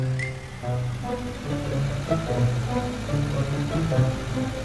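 Tractor engine running during a tractor pulling contest, a continuous mid-pitched diesel chug with a steady throb, loud and close with no talk over it.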